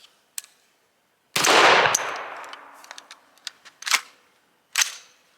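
An unsuppressed 300 Blackout AR rifle with a reduced power spring fires several loud, sharp shots at uneven intervals outdoors, each followed by a short echoing tail and small metallic clinks.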